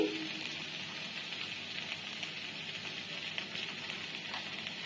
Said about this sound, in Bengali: এটা এক মিনিট নেড়ে নিলাম তারপরে আমি হলুদ গুঁড়ো দিয়ে দিচ্ছি